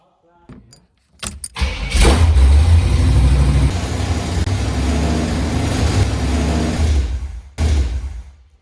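A 1977 Chevrolet C20 long bed pickup with a 454 big block V8 cranks, catches and starts, then runs loud and close with a deep rumble, briefly dropping and revving again near the end.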